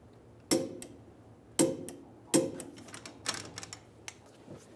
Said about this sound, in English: Torque the lower shock bolt to 76 foot-pounds.